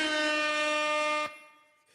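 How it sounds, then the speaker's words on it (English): An air horn sound effect gives one loud, buzzy blast of about a second, which cuts off abruptly and leaves a short fading tail. "That deserves an air horn."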